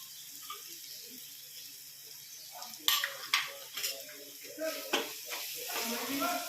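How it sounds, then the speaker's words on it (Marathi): Chopped onion with coriander in a pan for Maharashtrian pohe sizzles softly while a spoon stirs and scrapes, with several sharp clinks against the metal and a voice speaking. "घालून कांदा पुन्हा एकदा परतून घेऊ."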